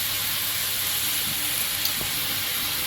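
Potatoes with turmeric, coriander and cumin powder sizzle steadily in a pan, a continuous close frying hiss with faint stirring scrapes and no talking.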